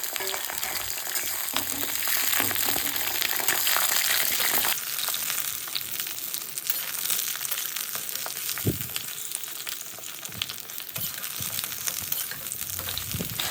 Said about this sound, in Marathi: त्याच कढईमध्ये आपल्याला ही वांगी जी आहे ती फ्राय करून घ्यायची आहे